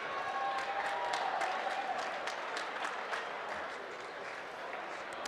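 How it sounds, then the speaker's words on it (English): An audience at a bantamweight MMA bout applauds the two fighters, a steady wash of clapping and crowd noise that holds at a fairly even level, easing slightly toward the end. "Ladies and gentlemen, let's have a big round of applause for these fighters."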